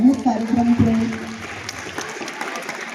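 Students clap at a school ceremony, a soft, scattered applause that continues under a voice speaking at the start and then fades to a light patter.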